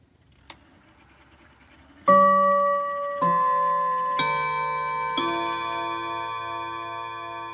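A German DRGM Art Deco mantle clock chimes the first quarter: after a faint tick, four ringing, sustained chime notes strike in sequence about a second apart, each ringing on and overlapping into the next.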